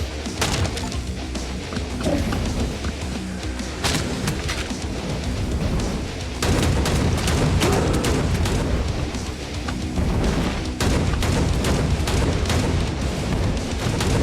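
Gunfire and fireballs in the first-person shooter Hellbound: dense, loud, continuous bursts of shots and booming blasts with crashes layered over one another for the whole stretch, no voice heard.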